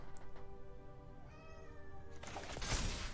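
A kitten meows plaintively in a drawn-out, wavering cry near the mic, followed by a burst of rustling noise.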